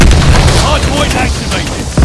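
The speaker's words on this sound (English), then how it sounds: "Friendly bombing run inbound" Booming explosions from a friendly bombing run in the Call of Duty Vanguard shooter, a dense, loud rumble of blasts layered under constant game noise and voice chatter, with a fresh heavy thump at the very end.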